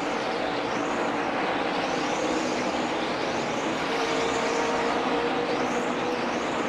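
NASCAR Sprint Cup race cars roar past at a race in a constant, dense engine drone. Repeated swells of sound mark the passing cars.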